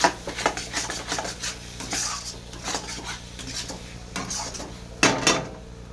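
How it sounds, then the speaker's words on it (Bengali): A spice paste for a chicken skin recipe is stirred and fried in a pan, with a steady run of metal spoon scrapes and clinks against the pan over a low background hum and no speech. "একটু ভালো করে এইভাবে আবার কষাবো মশলা"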